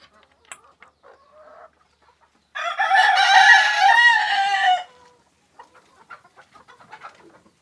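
Laying hens cluck in a poultry house on a Fayoumi chicken farm, with one loud drawn-out call lasting about two seconds. Softer scattered clucks come before and after it.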